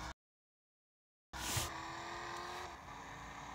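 A Mustang muscle car in Car Parking Multiplayer revs and accelerates after a brief silence, its engine roaring steadily with a short tire squeal, close and sustained.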